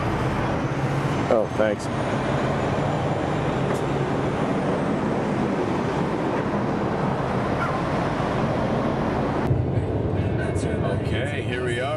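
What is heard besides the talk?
support vehicle driving during the 2010 Dakar Rally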